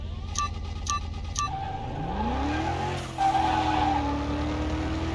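A Porsche Carrera GT race car in Car Mechanic Simulator 2021 roars along, engine pitch climbing through a gear as tires hiss, preceded by a few short electronic beeps, steady and close.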